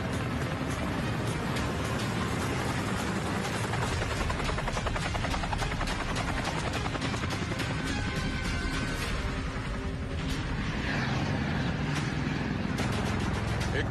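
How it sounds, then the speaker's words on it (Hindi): A helicopter flying in restricted Secret Service airspace gives off a loud, continuous rotor roar with rapid chopping pulses that fill the whole stretch, steady and close throughout. "सीक्रेट सर्विस के लोगों ने एयर स्पेस बंद कर रखी है, इसलिए यह हेलीकॉप्टर बस यहीं तक जा सकता है।"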